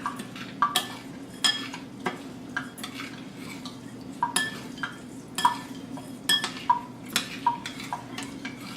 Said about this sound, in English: That's your rice, and you rinse it,